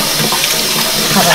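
Tap water runs steadily over a raw turkey being rinsed in a kitchen sink, a close, loud, continuous splashing gush lasting just over a second.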